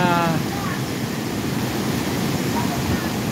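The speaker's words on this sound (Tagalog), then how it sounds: "Yan po ang indication na palakas ng palakas ang puwersa ng tubig, kasi nag-high tide na po." Storm surge waves surging in at high tide at Nato Port, Sagñay, Camarines Sur, a loud continuous roar of churning water with wind buffeting the microphone.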